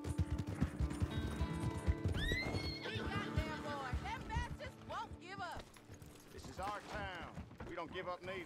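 Horse in the Western video game Red Dead Online, several loud wavering neighs and whinnies over hoofbeats, with people talking at the same time.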